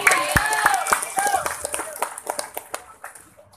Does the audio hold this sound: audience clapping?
yes